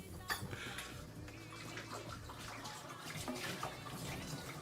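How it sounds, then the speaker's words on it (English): Water runs from a tap in a soft, continuous trickle with small splashes and drips, fairly quiet and close, faint background murmur underneath. "Just hearing the water running."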